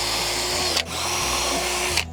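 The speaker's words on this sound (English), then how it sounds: "we're just gonna drill some holes in here because we're gonna put some hooks in here" A power drill whines steadily at close range while drilling holes in wood, its pitch dipping briefly twice as it bites in, with no talking.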